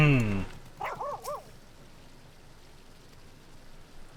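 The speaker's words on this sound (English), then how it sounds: "Puppy." A puppy in the video game Final Fantasy XIV: Dawntrail gives a few quick yapping barks, close and clear, after a brief burst of game music, with soft rain and wind filling the background.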